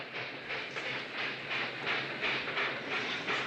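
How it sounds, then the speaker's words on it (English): A train rolls along the rails with a soft, steady rhythmic clatter and hiss, heard faint and somewhat distant with no voices. "the train's probably stopped for Mort Finney's Holstein"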